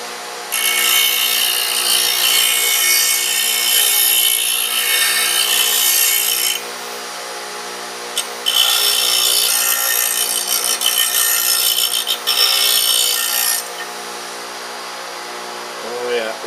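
A negative rake scraper is being sharpened in two long strokes of steady rasping, abrasive rubbing, each lasting about six seconds with a short pause between, close and fairly loud.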